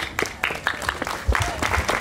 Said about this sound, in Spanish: Fuerte las palmas, fuerte las palmas